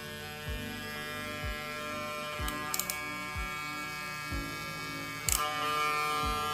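A Gamma+ Ergo hair clipper with a loose, poorly screwed cover runs with a steady close electric buzz and hum, punctuated by brief rattling clicks from the loose housing.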